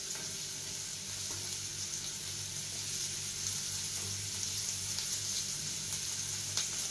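Chopped chili, garlic and mushrooms sizzle in a hot frying pan, giving a steady crackling hiss with faint stirring scrapes, close and fairly quiet, with no talking.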